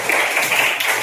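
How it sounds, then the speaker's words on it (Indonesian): Classroom students clapping hands after a group presentation in a lesson, a brief burst of quick, close clapping from several people. "Kasih tepuk tangan dulu."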